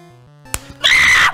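A sharp slap to the face lands as one quick crack, followed a moment later by a loud, half-second shriek; this is a cartoon slap contest.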